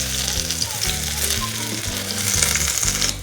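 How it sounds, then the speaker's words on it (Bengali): Cabbage kofta rolls deep-frying on low heat in oil, a steady dense sizzle and crackle with a low bubbling undertone, close and continuous. "রোলগুলি লো হিটে কড়া করে ভেজে নেব।"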